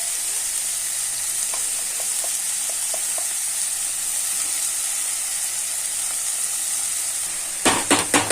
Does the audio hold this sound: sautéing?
yes